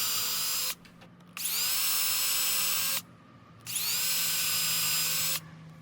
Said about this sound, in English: a longer bit to drill the pilot holes